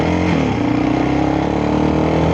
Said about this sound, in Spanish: Anda haciendo un ruido muy extraño